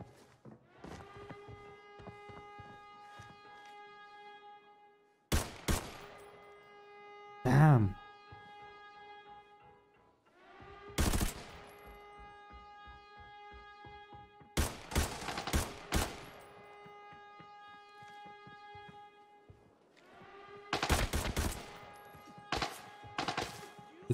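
Bursts of gunfire crack through a firefight in the shooter game Arena Breakout, several sharp rapid volleys spaced apart, loud and close, over a steady tonal hum, with a voice speaking briefly between shots.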